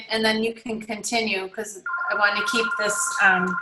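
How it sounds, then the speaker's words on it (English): A telephone rings with a steady electronic tone beneath someone talking, the ring starting partway through and continuing under her speech. "I apologize for the phone ringing"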